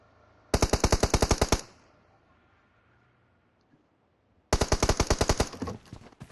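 Automatic gunfire in the battle royale game PUBG on the Erangel map: two loud, rapid bursts of about ten shots each, separated by a few seconds of near silence.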